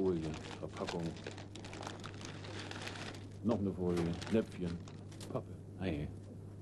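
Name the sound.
crinkling foil packaging being handled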